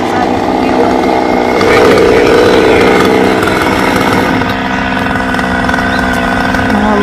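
A chainsaw cuts through a branch of a large golden acacia tree, its engine revving loud and steady close by for several seconds, with a voice speaking over it.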